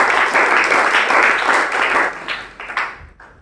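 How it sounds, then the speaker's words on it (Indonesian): A church congregation claps for God during a sermon, a brief burst of fairly close applause that thins into a few scattered claps before fading out. "Gak mau tepuk tangan buat Tuhan ya."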